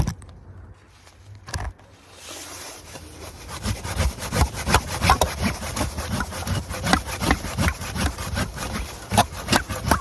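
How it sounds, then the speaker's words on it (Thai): A hand saw rasps back and forth through a rosemary branch in a backyard garden in a steady rhythm of quick strokes, close and fairly loud after a brief quiet start. "อยากจะเลื่อยก็อยากจะเลื่อย"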